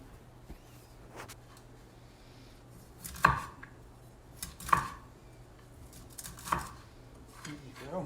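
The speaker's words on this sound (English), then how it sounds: "cut some broccoli" A knife chops broccoli into small pieces for a homemade ramen, giving a few sparse, separate thuds on a cutting board, quiet and close.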